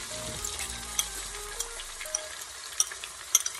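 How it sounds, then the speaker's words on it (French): Sliced onions fry in butter and oil inside a Cookeo multicooker, giving a steady sizzle with small crackles and pops, alone and close by. "vous allez venir prendre vos oignons émincés et vous allez les mettre aussi."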